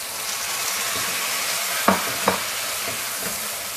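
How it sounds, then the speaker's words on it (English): Tomatoes added to softened onions in a hot pan for butter chicken, a steady frying hiss with two quick utensil knocks near the middle, close and without talk. "I'm going to add the tomatoes."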